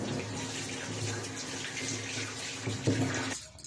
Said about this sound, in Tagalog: Una, hugasan natin ng mabuti ang mga kalamansi.